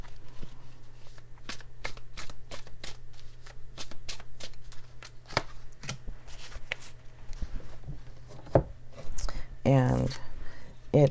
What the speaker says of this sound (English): I'm going to pull another tarot card here for my Chinese deck.